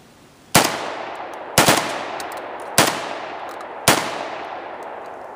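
Vepr-12 semi-automatic shotgun firing four loud, close shots from a 5-round magazine at roughly one-second intervals, each blast followed by a decaying ring-out outdoors.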